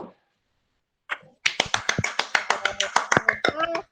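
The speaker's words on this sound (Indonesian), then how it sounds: "Tepuk tangan dulu ya untuk kasus ketiga ini." Hands clap together in a steady run of a dozen or more close, sharp claps, loud and near, following a brief murmur at the start, with no talk over the clapping.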